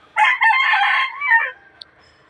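A Kelso sweater gamefowl rooster crows once, close and loud, the harmonic call rising and then trailing off over about a second and a half, followed by a short faint click.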